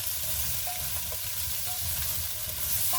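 Carrots and vegetable garnish sweating gently in a pan for a grandmother-style seven-hour leg of lamb, giving a steady soft sizzle with light stirring scrapes and no talk.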